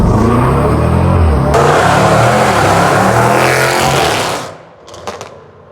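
A Range Rover SVR engine revs hard and loud, roaring steadily for several seconds before cutting off abruptly, followed by a couple of brief faint pops.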